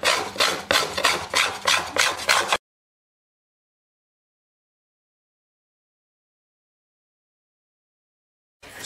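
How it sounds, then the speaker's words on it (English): Wooden mandolin backs being carved and scraped by hand: about eight rhythmic rasping strokes close up, ending abruptly into silence before a brief return of sound at the very end. "So much of this carving and scraping on the tops and backs of these two mandolins"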